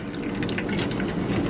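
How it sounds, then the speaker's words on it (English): Lemon juice drains through a straining bag, a steady close trickling and dripping of liquid with soft splashes, heard alone without talk. "I'm gonna kind of push this down like this because we're gonna strain this juice"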